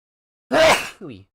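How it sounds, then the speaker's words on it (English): A single close, loud sneeze bursts out alone, followed by a short voiced exhale or murmur as it fades. "I gotta sneeze"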